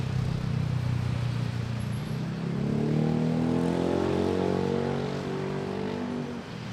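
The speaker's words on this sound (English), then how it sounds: "Cathay Pacific 777 Heavy, big boy 9030, off to Hong Kong," A Cathay Pacific Boeing 777 airliner lined up on runway 24 at Manila Airport, its jet engines a loud, deep steady roar that swells and climbs in pitch as the thrust builds, heard alone without talk.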